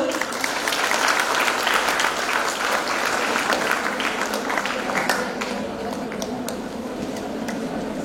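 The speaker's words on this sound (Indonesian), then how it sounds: "Tepuk tangan dulu." A hall audience at a Diniyyah Puteri 101st anniversary reception breaks into loud, sustained applause, dense clapping that holds steady and eases slightly toward the end, with faint crowd murmur underneath.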